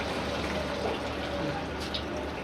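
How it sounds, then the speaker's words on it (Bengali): Water poured into a pot of curry with spiced liver, a steady close hiss of running liquid lasting a couple of seconds, with no clear talk over it. "জল দিয়ে দিই"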